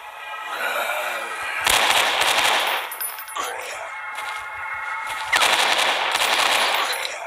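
Rapid automatic gunfire in the horror video game Motherbirb, loud bursts of repeated shots in two long volleys separated by a short pause, with clanking game sounds between.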